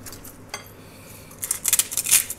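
A whisk scrapes and clinks against a pan while egg carbonara sauce is worked over the heat, with a few light metallic taps early on and a quicker run of clinking strokes toward the end. The clinking is fairly close and there is no talk.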